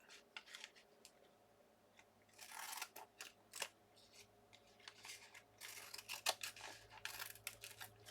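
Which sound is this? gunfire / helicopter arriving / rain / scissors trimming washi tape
scissors trimming washi tape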